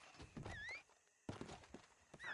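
A horse arriving in the video game Red Dead Redemption Online, heard as faint, quiet hoof thuds with brief high whinny-like calls, in two short bursts split by a gap of near silence.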